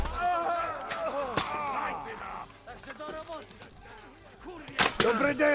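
Sharp gunshots crack out from soldiers firing in the medieval game Kingdom Come 2, a few loud scattered reports amid battle clamour and shouting voices.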